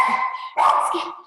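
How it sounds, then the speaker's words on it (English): A pet dog named Welly barks and yips twice in a home kitchen, two short bursts separated by a brief pause, close and fairly loud. "Sorry, that's my dog."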